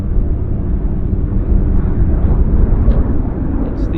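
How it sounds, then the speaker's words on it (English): A de Havilland Turbine Otter floatplane leaving the Vancouver float base gives off a steady, loud turbine roar at a distance, holding a constant broad rumble throughout. "It's the Turbine Otter on floats. Harbor Air just departed from the Vancouver float base"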